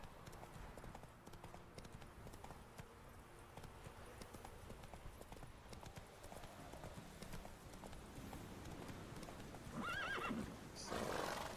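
A horse in The Witcher 3 clip-clops in steady rhythmic hoofbeats under faint background sound, then gives a loud whinny near the end, followed by another burst of noise.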